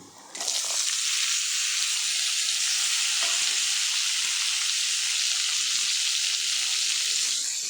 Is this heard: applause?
no